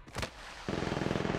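Rapid weapon fire from a first-person battle royale game, Apex Legends Mobile, with an R99 or R301 in play; a brief burst opens, then a steady fast rattle of automatic shots runs loud and close to the end.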